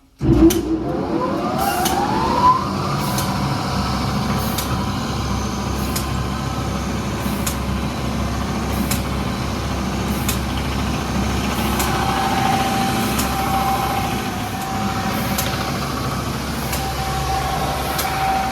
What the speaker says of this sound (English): Then I'll turn the sanding belt on.